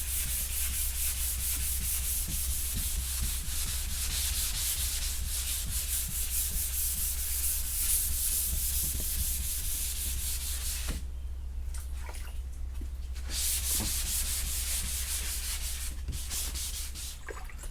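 Car primer being wet sanded by hand with sandpaper, a steady continuous rubbing scrape that runs close and loud throughout with a few brief pauses near the end, no talking.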